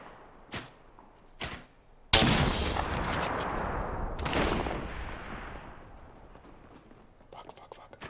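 Gunfire in the battle royale game Apex Legends: a couple of sharp isolated shots, then a loud sustained burst of fire with ringing metallic tails that fades out, ending in a few faint clicks.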